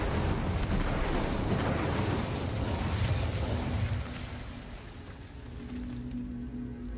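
An Incendio fire spell cast in Hogwarts Legacy, a loud roaring burst of flame and crackling effects that ends abruptly after about four seconds, leaving a quieter hum of game ambience.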